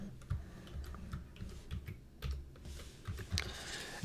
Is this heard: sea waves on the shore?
no